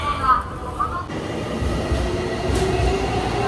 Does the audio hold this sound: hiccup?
no